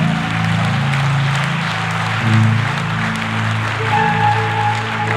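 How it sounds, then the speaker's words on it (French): A church congregation claps together in a steady, continuous wash of hands. The clapping fills the room over sustained, tonal music, with no clear speech on top. "Somebody clap your hands."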